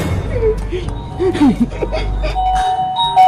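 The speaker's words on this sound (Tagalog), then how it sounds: "Tumunog yung doorbell!" A two-tone doorbell chime rings out, followed by sustained ringing tones, with playful voices and snickering mixed in.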